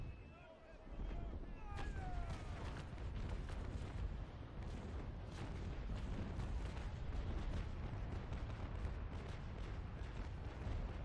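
Broadsides of ship cannon fire in the naval combat game Naval Action, a dense rolling barrage of booming shots that persists for over ten seconds, with voices briefly heard at the start.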